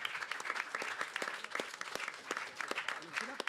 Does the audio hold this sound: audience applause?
yes